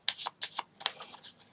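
A deck of playing cards is shuffled by hand up close, a quick run of crisp riffling bursts in an uneven rhythm, with no voices over it.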